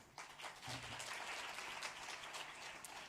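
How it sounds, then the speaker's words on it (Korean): A church congregation applauds at a Sunday service certificate ceremony, a faint, dense patter of many hands clapping steadily from a distance for a few seconds. "뜨거운 박수로 격려하면 좋을 것 같습니다."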